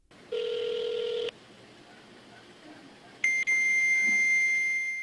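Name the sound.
telephone call dialing tones to a fax number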